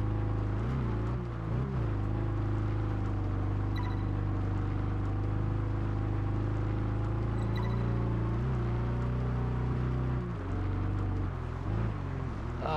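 Car engine from the racing game Test Drive Unlimited 2 drones loudly and steadily for the whole stretch, a low sustained hum with rising and falling pitch as the car shifts and accelerates, no voices over it.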